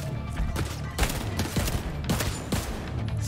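An automated turret in The Division 2 fires rapid bursts of gunfire with sharp, steady shots over a few seconds.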